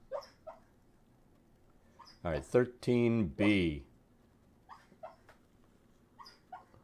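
A sleeping dog named Thor whimpers and yips through a bad dream, a cluster of loud whining cries in the middle with fainter squeaks before and after, while someone speaks briefly nearby.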